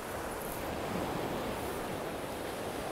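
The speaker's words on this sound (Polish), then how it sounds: "zaraz pokażemy wszystkim, jakie dziś jest morze" Sea waves surge steadily on a windless day at a beach, a constant broadband wash of surf with gentle swells and no speech.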